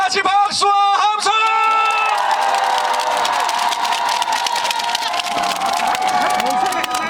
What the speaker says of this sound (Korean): 그렇다면 다 같이 박수와 함성!